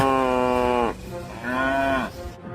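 A carabao, the Philippine water buffalo, gives two long, loud, drawn-out moos separated by a short pause, heard close and alone.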